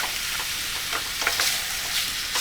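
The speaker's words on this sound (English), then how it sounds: "So we're just browning it now, and it doesn't even matter if there's still a little bit of pink" Meat browning in a hot pan sizzles steadily and close, a constant hiss broken by brief stirring scrapes, with no talking.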